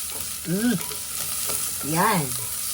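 Onion sautéing in a pan, with a steady close sizzling hiss running throughout. Two brief rising-and-falling tonal squeals sound over it, near the start and again toward the end.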